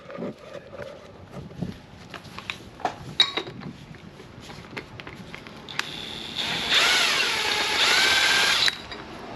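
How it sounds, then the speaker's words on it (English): A 1/2 inch impact wrench removes the last axle lock nut on a 1972 Chevy K10 Dana 44 front axle. Clanks and handling knocks come first, then a loud sustained whirring burst runs for about three seconds, close up with no talk. "I have it on a 1/2 inch impact"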